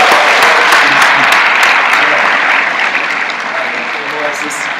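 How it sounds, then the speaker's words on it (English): University of Michigan students applaud as presenters are called up to pitch, loud sustained clapping from a crowd that tapers slightly, with voices murmuring underneath. "Can we give them a round of applause?"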